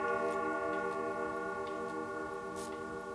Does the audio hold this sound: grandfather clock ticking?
yes